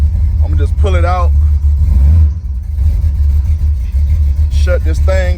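A car engine with a water pump problem hums steadily at low pitch, close by, as the car is pulled out, while a person talks briefly at the start and end.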